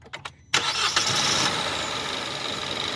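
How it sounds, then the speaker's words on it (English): A car engine cranks with a few short starter whirs, then catches and settles into a steady idle. The car has a restricted exhaust and no power, and the sound is close and moderately loud. "They're gonna go ahead and start up the engine right now."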